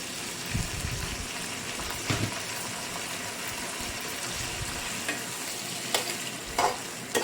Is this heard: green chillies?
yes